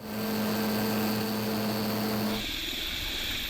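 A Kaman SH-2G naval helicopter drones loudly overhead with a steady rotor hum, then the sound shifts and thins as it passes.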